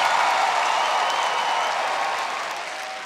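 Broad audience applause from a Canada's Got Talent crowd fills a theatre, loud and steady, slowly fading toward the end with no speech over it.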